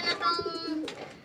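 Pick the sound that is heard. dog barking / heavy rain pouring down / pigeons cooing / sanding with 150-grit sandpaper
pigeons cooing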